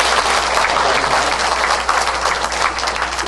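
A church congregation applauds together during a Sunday service welcoming newly registered families, a dense, steady wash of clapping that fills the full stretch without pause.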